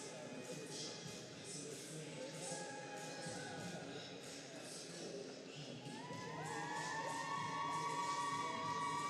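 Spectators cheer at an artistic swimming World Cup women's duet technical event in Markham. The cheering is distant and steady and builds louder toward the end, with shouts rising over the crowd noise.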